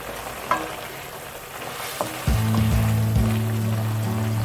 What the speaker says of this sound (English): here is our tuna that I've been cooking